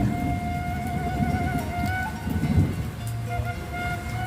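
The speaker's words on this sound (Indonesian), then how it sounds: "Aduh, sing hujan ngebaso ya." Heavy rain pours down steadily in a village, a dense continuous hiss with a faint low rumble and a steady tonal hum underneath.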